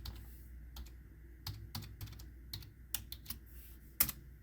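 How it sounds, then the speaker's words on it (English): Keys tapped on a computer keyboard of a Beelink Ryzen 7 mini PC while a password is set, in scattered irregular bursts of close, fairly quiet clicks with pauses between them, no talking. "I'm trying to hold the camera and type on here"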